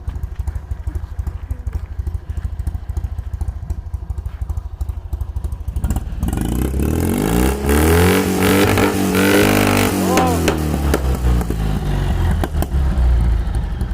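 A small engine of a Fiat 126p idles with a rapid steady putter, then is throttled hard into loud, rising and falling revs close by.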